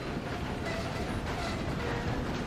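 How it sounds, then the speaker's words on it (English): Moving train in the video game Red Dead Redemption 2, a steady, dense rumble of wheels and rail noise rolling on continuously at close range with no talk. "If we don't stop this train soon, the other boys will never catch us."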